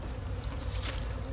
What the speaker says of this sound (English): I knew there were so many bees in that cluster up top.